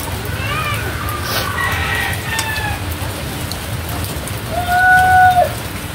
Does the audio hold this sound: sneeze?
no